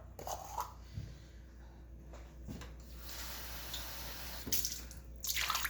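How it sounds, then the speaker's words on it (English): Water pours steadily into a mixing bowl for a few seconds, with scattered soft knocks and clinks before and after. "I'm adding in 3/4 cup of water."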